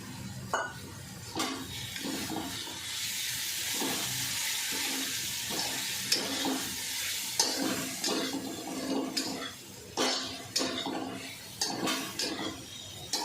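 Fresh green peas sauté in oil over a low flame for a spicy pea chutney, giving a steady close sizzle broken by repeated scraping and stirring strokes of a spoon against the pan.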